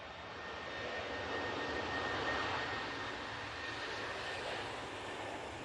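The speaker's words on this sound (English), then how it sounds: "company is now spooling up in the shape of this 737-800 in the .com livery" A Boeing 737-800 in .com livery spools up its jet engines for takeoff at Manchester Airport, a steady broadband roar that swells slightly midway and holds at moderate distance, with no voices.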